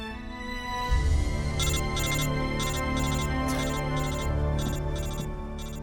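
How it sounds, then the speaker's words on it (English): A radio codec ringing in the video game Metal Gear Solid Delta: Snake Eater, a bright electronic ring repeating in short bursts over a steady background of game music and ambience. "That freaking radio, man, always ringing at the wrong time."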